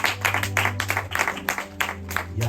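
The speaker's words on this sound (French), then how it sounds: "Donc, applaudissons aussi." A church congregation applauding a welcomed visitor, a moderate burst of clapping with uneven, scattered hand claps and a low hum beneath.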